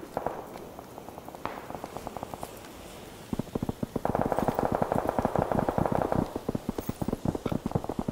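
Distant enemy gunfire in the shooter video game PUBG: rapid rattling volleys of many shots, sparse at first then dense sustained bursts, moderately loud with clattering rhythm.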